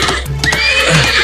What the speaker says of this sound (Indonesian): Kuda itu liar sekali.